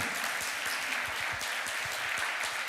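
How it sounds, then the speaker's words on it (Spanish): A church congregation applauds during a Spanish-language sermon, steady mid-level clapping from many hands, sustained and fairly even throughout, somewhat distant. "dele ese aplauso fuerte al Señor"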